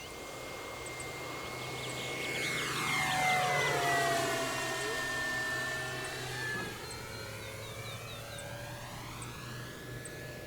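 An Avios Super Tucano RC model warbird with a 1600 mm wingspan flies past, its motor whine swelling as it approaches, sweeping down in pitch as it passes, then fading into the distance.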